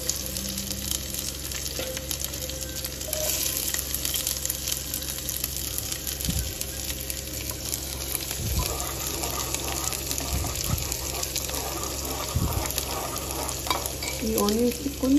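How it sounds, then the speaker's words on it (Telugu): Onions fry in hot oil with cumin in a pan, a constant broad sizzle with occasional stirring scrapes and a few low knocks, close and steady without speech. "ఈ ఆనియన్స్కి కొంచెం ట్రాన్స్లూసెంట్ అయ్యేదాకా ఫ్రై చేసుకుందాం"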